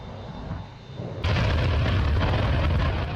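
An F-15 or F-16 jet engine runs with its afterburner, a low rumbling roar that suddenly jumps to a loud, sustained blast of broadband thunder and holds steady.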